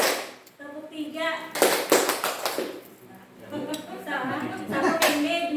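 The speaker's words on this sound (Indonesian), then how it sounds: "Kita dulu tepuk-tepuk dulu Bapak Ibu lah, biar semangat dulu" Group of adults clapping together in a counted rhythm game to liven up a gathering, with sharp bursts of claps separated by short pauses and a voice talking between rounds.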